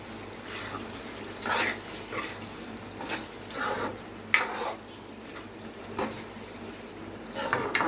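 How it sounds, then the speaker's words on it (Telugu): Egg curry being stirred in a pan after the eggs go in, with soft scraping and utensil taps against the pan at a steady pace, faint sizzling underneath, no talking. "ఇప్పుడు ఎగ్స్ వేసుకున్నాక బాగా కలుపుకోవాలి."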